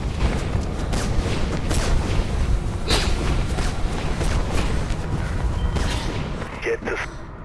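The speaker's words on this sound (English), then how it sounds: "I can hear gunshots" Gunfire in the video game Mirror's Edge, rooftop combat with a continuous rumble of shots and booming impacts, loud and sustained throughout with game noise layered over it.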